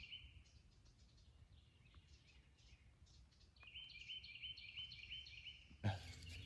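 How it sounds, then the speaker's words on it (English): Birds chirp at sunrise around a solo wilderness campsite. Faint, distant calls and thin trills repeat over a quiet background, with a short rustle near the end. "Especially with the birds chirping."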